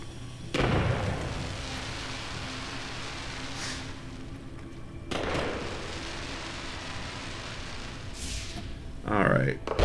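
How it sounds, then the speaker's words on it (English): Fireworks launching in the video game No Man's Sky: two loud booming bursts a few seconds apart over a steady rumbling game backdrop, with a brighter crackling pop near the end. "Let's have a good old new firework type."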